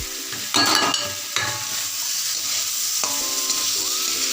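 A spoon stirs fried tomatoes with a spoonful of sugar in a hot pan, giving a steady close sizzle with a few scraping strokes against the pan.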